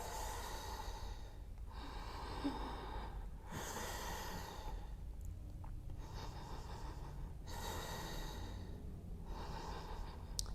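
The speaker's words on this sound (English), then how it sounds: "And breathe. Three more breaths." Slow, deep breaths during a core-strengthening yoga practice: steady rounds of long inhales and exhales, close and even, alternating with quieter pauses and no talking.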